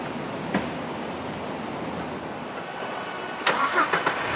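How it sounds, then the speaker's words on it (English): A Jeep engine starts and runs at a distance, a low, steady rumble with faint clicks near the start and a slightly louder burst of engine noise toward the end as it pulls away outdoors. "So now let's move the Jeep and get the second."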